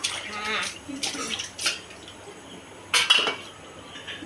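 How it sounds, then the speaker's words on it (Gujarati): Dishes and utensils being washed with water by an older woman in a home kitchen, with clinking metal cutlery and pots in short bursts over faint running water, closer clatter near the end. "અમારા ડોસીમાં બેસી ગયા વાસણ ધોવા."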